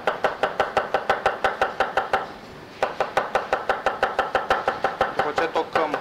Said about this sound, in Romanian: După ce tocăm țelina